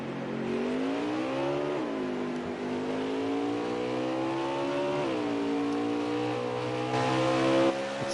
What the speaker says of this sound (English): There goes Rev Hot Nuts exiting the pits.